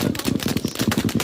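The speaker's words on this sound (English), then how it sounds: "much of which is almost constant gunfire." Bursts of near-constant gunfire captured on a mobile phone during an Israeli military shooting, rapid uneven cracks packed close together with no pause across the short stretch.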